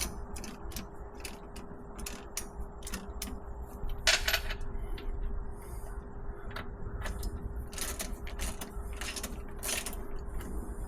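A nut is tightened onto a stud on a 1952 Chevy differential, giving a steady run of close ratcheting clicks and metallic creaks over a constant background hum, with no talking.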